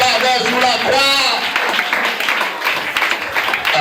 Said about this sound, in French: Applaudissons le Seigneur parce que sanctifié